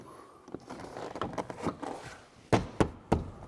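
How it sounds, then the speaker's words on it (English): Several soft taps and clicks of a plastic Chevy Trax door panel clip being worked, ending with a few sharper snaps as it seats into place. "That one just snapped in right there."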